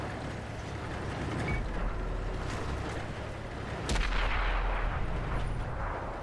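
The ISU-152 tank's heavy gun fires in a video game, one deep booming blast that stands out over the constant low rumble of engine noise, and a second, fainter boom comes earlier.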